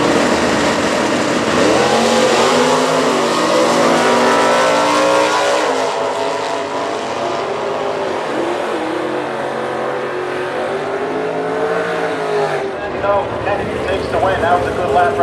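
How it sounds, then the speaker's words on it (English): Super Stock drag race cars on a quarter-mile run roar loud and close, engines revving and rising in pitch as they accelerate, while a track announcer talks over the noise. "That's not a bad lap at all for quarter-mile Superstock racing"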